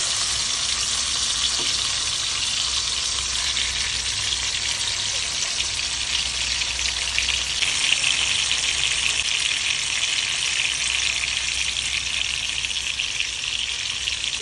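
Fish roe frying in coconut oil: a loud, dense, continuous sizzle that holds steady throughout, close up and alone, with no talking.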